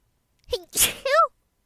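A single close, loud sneeze: a quick sharp intake of breath, an explosive burst, then a short voiced tail.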